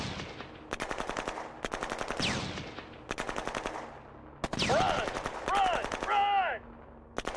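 Tanks firing in the Shadow Empire strategy game, heard as repeated rapid machine-gun-like bursts of shots separated by short pauses, with whistling, squealing effects and rumbling blasts mixed in, fairly quiet overall.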